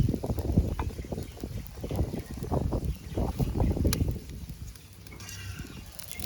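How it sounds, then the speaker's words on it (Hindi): Gusty wind blows across an outdoor cooking spot where aloo parathas fry over an open fire, giving continuous low buffeting rumbles and bursts with no clear talk. "अब जब पकाने की बारी आई है तो हवा चलने लग गई।"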